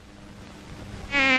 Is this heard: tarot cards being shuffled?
no